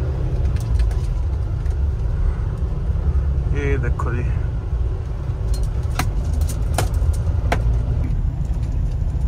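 Mahindra Thar SUVs driving off-road on a dusty track at night, a steady loud engine and road rumble throughout, with people talking over it.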